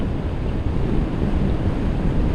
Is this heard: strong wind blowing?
yes